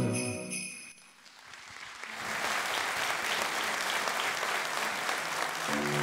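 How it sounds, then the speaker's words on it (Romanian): Music fades out, then an audience at a Christmas carol concert in Medias bursts into sustained, dense applause that swells and holds steady. "Vă mulțumesc, vă mulțumesc tare mult pentru aplauze."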